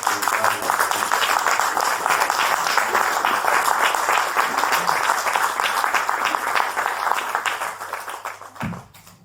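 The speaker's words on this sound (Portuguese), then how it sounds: "Uma salva de palmas ao" Audience applause at a Portuguese community event, a dense steady patter of clapping that fills the room for about eight seconds before tapering off near the end.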